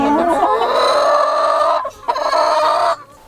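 Backyard hens cluck and squawk loudly and close, a dense run of overlapping calls that breaks off briefly near the two-second mark and then resumes before cutting out.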